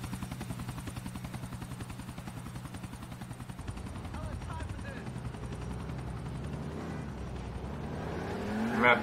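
A helicopter in GTA IV flies overhead with a steady chopping rotor drone, mixed with car engine noise as a vehicle follows it.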